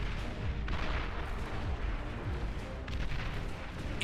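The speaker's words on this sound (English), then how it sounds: "Just watch for explosions." Explosions rumble through a large real-time strategy battle in the video game Beyond All Reason, a dense barrage of booming blasts and artillery-like thuds rolling continuously at moderate distance.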